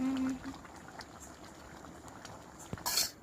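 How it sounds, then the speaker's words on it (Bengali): Egg curry gravy boils in a pan as eggs are added for egg biryani, a soft continuous bubbling heard up close, ending with a brief clatter and splashy burst. "ফুটন্ত অবস্থায় ডিমগুলো দিচ্ছি। দেখো ফুটছে।"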